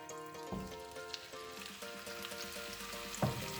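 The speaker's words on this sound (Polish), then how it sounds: "Lałam olej, patelnia już tam się rozgrzewa. I tak jak mówiłam, rzucam teraz kurczaka." Chicken pieces fry in hot oil in a pan, a steady close sizzle and crackle with a few sharper pops and clatters as the meat settles.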